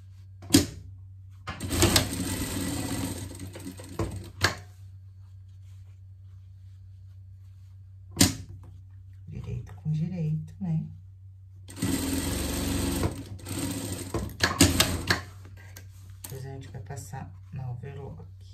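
An overlock sewing machine stitches a pocket onto a garment in bursts of rapid, whirring stitching, with a long run near the middle, separated by pauses; a person talks between and over the bursts.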